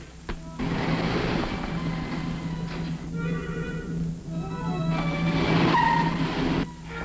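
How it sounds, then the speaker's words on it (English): A 1950s car pulls away with a steady engine drone and rising tire noise, mixed with film-score tones, with no talking. "I just saw your car drive off"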